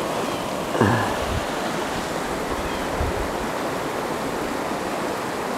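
River rapids rush in a steady, broad roar of flowing water close by, with a couple of brief splashes or knocks standing out over the constant wash.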